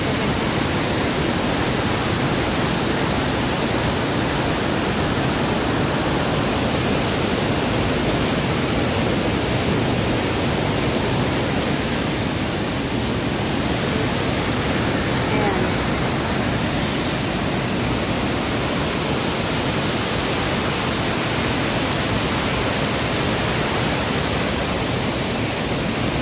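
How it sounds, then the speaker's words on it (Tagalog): Strong, rushing floodwater pours through a farm's flood control structure, a dense, loud, unbroken roar of churning water with no voices. "Lakas ng agos ng tubig dito. Ito pala flood control siya."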